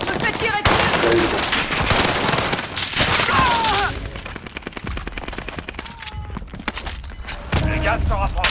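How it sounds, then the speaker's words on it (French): Rapid, loud video game gunfire rattles in dense automatic bursts with sharp single cracks and booms, broken by short pauses, while voices talk over parts of it. "Je me fais tirer dessus."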